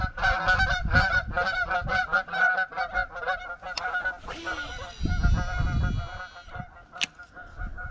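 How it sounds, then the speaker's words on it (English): A flock of geese honks repeatedly as it flies by outdoors, a loud, steady run of nasal calls, with a faint high whine and light rustling near the end. "If these geese go by."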